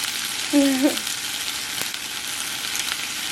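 Pieces of honey ham sizzling as they warm in a hot pan, a constant close hiss with a brief tonal squeak early on and one sharp click midway, no voices.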